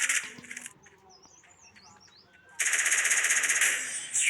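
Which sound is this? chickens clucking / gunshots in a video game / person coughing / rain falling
gunshots in a video game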